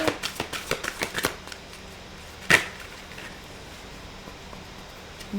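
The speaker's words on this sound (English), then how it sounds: "let's shuffle and get you an oracle card" Oracle cards are shuffled up close in a quick run of crisp riffling flicks, followed by a brief pause and one sharper snap of the deck near the middle, then quiet.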